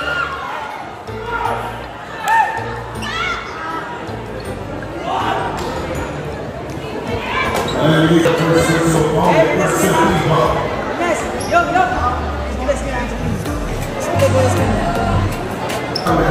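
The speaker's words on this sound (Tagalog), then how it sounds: "Unang possession pa lang, hiyawan na kaagad yung mga tao." Crowd of spectators shouting and cheering at a Tinguiban versus San Manuel basketball championship game in Puerto Princesa, Palawan, a loud continuous roar with ball bounces, and a commentator talking over it.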